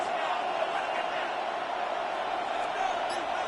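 Football stadium crowd roaring steadily at third down, a dense sustained wash of cheering throughout with no breaks.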